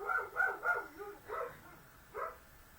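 A dog barks at something outside a quiet home, a run of muffled, moderately distant barks in quick succession followed by a couple of spaced single barks.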